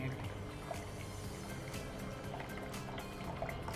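Water poured into a pot while cooking chicken donne biryani, a steady close liquid rush and gurgle running the whole time with faint clinks.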